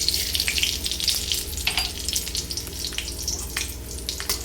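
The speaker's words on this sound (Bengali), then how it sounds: "আর এই তেলে আমি দিয়ে দিব 2টো তেজপাতা আর 1 টেবিল স্পুন পাঁচফোড়ন" Two bay leaves and a tablespoon of panch phoron sizzle in hot oil left from frying potatoes and eggplant, giving a close, crackling hiss with sharp pops scattered through it and no voice.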